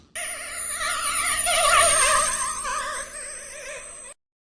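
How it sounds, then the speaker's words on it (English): A bright whooshing flyby effect with warbling high tones that swells and sweeps past, then cuts off abruptly. "called Flyby. It is from an anime sound effect"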